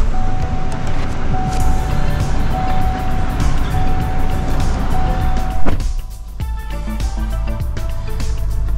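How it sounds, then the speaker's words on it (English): A truck engine cranks and settles into a steady running idle, loud and close, with a sustained tone ringing over the rumble before the sound shifts and continues at a lower level. "Start the truck up."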